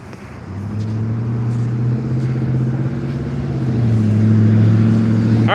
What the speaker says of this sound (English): just gonna stand here on the corner for a minute, let a few cars go by